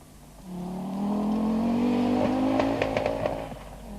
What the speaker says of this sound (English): But that crackle from the exhaust indicates fuel starvation and problems to come.